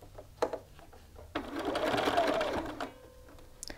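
Home sewing machine stitching a shirt collar and collar stand, one steady run of stitching lasting about a second and a half between short pauses and soft handling clicks, close and moderately loud.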